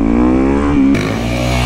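Dirt bike engine revving hard as the clutch is dropped to pull a wheelie, a loud, steady close-up roar with a sharp shift in pitch partway through.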